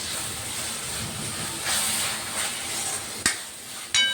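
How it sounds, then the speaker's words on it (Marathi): Moth beans (matki) sautéing in a spicy masala paste, a steady frying hiss and sizzle with occasional stirring clinks and scrapes, close and continuous, no talking. "आणि आता ही परत याच्यामध्ये परतून घ्यायची मसाल्यामध्ये"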